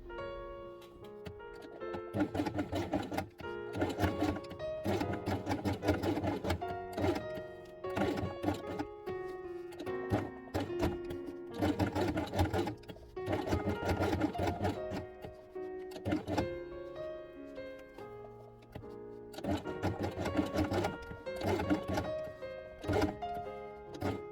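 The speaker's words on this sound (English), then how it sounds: "sew only pink element along the edge" A sewing machine stitches pink felt pieces along an edge, making repeated close bursts of rapid mechanical rattling with short pauses between runs.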